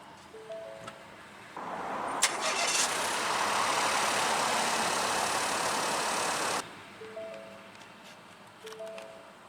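A 2019 Ford EcoSport Titanium FWD is push-button started, its engine catching with a brief crank and settling into a steady, fairly loud idle for several seconds before the roar drops off, with soft electronic chimes before and after.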